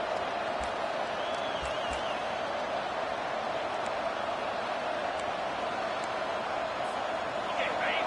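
Football stadium crowd cheers for the defense in the red zone, a steady roaring wash of noise with occasional whistles, heard under a broadcaster's commentary.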